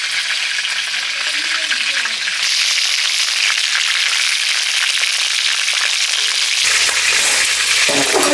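Chicken pieces frying in hot oil make a loud, steady sizzle throughout, with a stirring clatter and a brief change in texture near the end.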